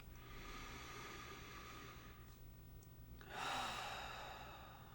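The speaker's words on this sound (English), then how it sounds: "taking 3 nice deep breaths" Someone takes slow, deep breaths during a guided relaxation, making soft airy inhales and exhales. A longer, fuller breath comes near the end, heard close over a faint steady hum.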